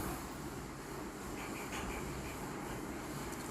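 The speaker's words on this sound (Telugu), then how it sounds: "ఓకే ట్రైన్ అయితే మూవ్ అయింది." A passenger train on the Mumbai LTT to Kakinada route starts to move, heard from inside as a steady, loud low rumble and broad rushing noise that stays even throughout.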